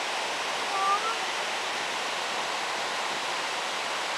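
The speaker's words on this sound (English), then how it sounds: "Sounds like river noise" Continuous broadband rush of fast-flowing water, steady and fairly loud, with a faint chirp briefly audible near the beginning.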